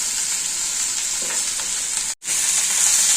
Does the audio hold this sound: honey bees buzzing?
no